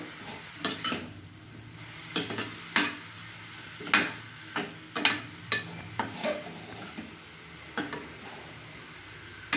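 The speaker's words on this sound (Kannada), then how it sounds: "ಈ ಥರ ಸಿಮ್ ಇಟ್ಕೊಂಡು ಕಲಿಸ್ಬೇಕು." Radish stir-fry (mulangi palya) stirred in a pan over a low flame: repeated close scraping and clinking strokes of a spatula against the pan over a faint sizzle, with no talk.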